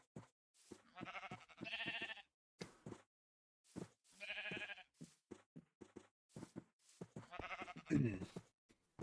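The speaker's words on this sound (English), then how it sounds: "Many sheeps." Sheep in the Minecraft video game bleat in several short, separate bursts spaced a few seconds apart, with soft clicks and silence between the calls.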